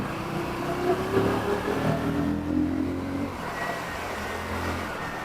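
A KTM Duke 160 motorcycle engine runs in fourth gear on a city ride, a steady close drone that swells slightly and then settles into an even hum with no talk.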